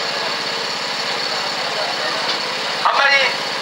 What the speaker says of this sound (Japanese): エンジンをかける会をしております